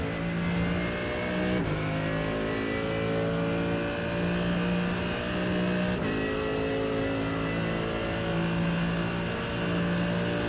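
A Mercedes GT3 race car engine at Suzuka in iRacing, a steady loud drone at full throttle with two brief gear-shift breaks, heard alone without any talk.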